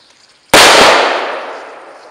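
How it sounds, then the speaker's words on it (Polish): A Mefisto firecracker explodes in water with one sudden, loud, close blast that decays over about a second and a half of trailing rumble and splash. "Wybucha w wodzie, bo są tak lekkie, że nie może iść nawet na dno."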